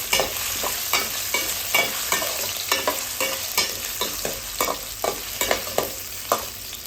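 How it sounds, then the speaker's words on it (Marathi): Potatoes with cumin cooking in ghee in a pan, a steady close sizzle broken by regular scraping taps as they are stirred. "आणि बटाटा जरा थोडंसं वाफवून घ्यायचं आहे या तुपावरती"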